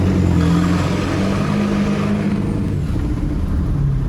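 A 2001 Honda S2000 exhaust, fitted with a tunnel or straight pipe, holds a steady, loud low drone with a throaty hum throughout and no voices.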